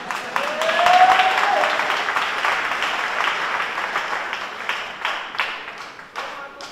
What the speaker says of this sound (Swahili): Kama mnataka kupiga makofi, pigeni anayeeleweka